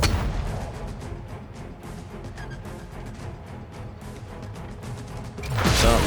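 Artillery fire in the space strategy game Silence of the Siren, a rapid run of booming mechanical shots and impacts repeating closely for several seconds, ending in a louder swelling blast.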